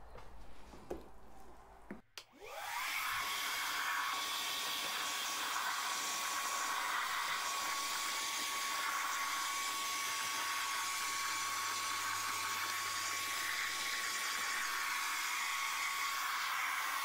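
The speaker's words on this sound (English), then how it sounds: "use the wet dry vac again to just suck all that out" A wet/dry shop vacuum runs steadily, sucking water out of window and door tracks, its loud even whine starting after a short clatter and holding for the rest of the span with a tonal hum on top.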